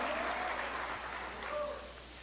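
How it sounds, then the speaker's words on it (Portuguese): A church congregation applauds during a worship service, a broad, sustained clapping from a large room that fades slightly toward the end, with a few voices rising beneath it. "Você pode aplaudir ao Senhor Jesus?"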